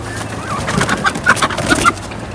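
Guinea fowl being caught, giving sharp, repeated squawking calls close by over a couple of seconds, with scuffling and noisy surroundings.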